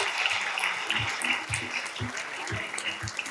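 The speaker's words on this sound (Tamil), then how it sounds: "அவங்களுக்கு நாம ஒரு பெரிய பெரிய கைத்தட்டல கொடுத்துடலாம்" An auditorium crowd claps for a woman being honoured on stage, a continuous spread of applause with soft low thumps recurring at an even pace underneath.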